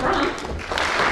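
Audience applause at a fall speech night, a dense steady wash of clapping throughout the short stretch, fairly loud and even.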